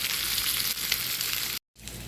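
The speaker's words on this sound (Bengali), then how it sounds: "মাছটা আমি ভেজে নিব" Hilsa fish frying in a pan gives a steady, close, bright sizzle with no talk, cut by a brief moment of silence just before the end.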